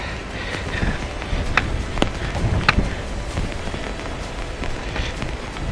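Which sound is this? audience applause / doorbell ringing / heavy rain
heavy rain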